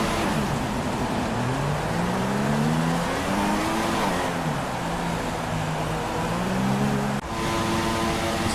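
F1 2016 race car engines on a formation lap at the Singapore Grand Prix on wet tires, a steady droning hum rising and falling with gear changes, loud and continuous without speech.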